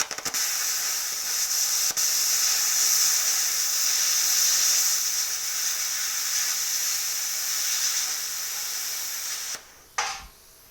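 A cheap Amazon plasma cutter slices through quarter-inch metal with a loud, steady, close hiss that lasts about nine seconds. Then it cuts out, followed by a brief click and a quiet tail.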